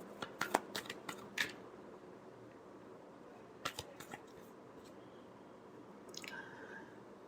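A deck of tarot cards is shuffled in short, crisp riffling bursts, one cluster near the start and another midway, with quiet handling noise between them.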